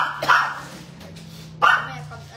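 Dog barks twice, a short sharp burst near the start and another about a second and a half later, fairly close, over a low steady hum and faint background voices.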